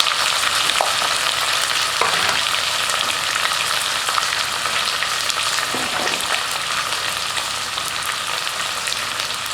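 Onions fry in hot oil for a mushroom coconut milk biryani, producing a dense, constant close-up sizzle with a few faint stirring clinks, and no one speaks.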